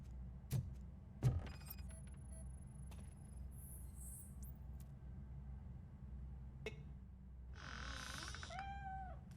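A cat in the video game RoboCop: Rogue City gives a short, faint meow near the end, preceded by a few sharp clicks and chirping game effects over a low, steady ambient hum.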